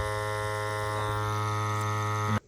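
A vacuum pump hums and buzzes steadily at close range, a tonal motor drone that cuts off abruptly near the end.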